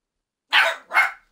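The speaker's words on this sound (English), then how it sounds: "My dog's barking at nothing." A dog barks three times, loud and close, in quick succession after a brief silence.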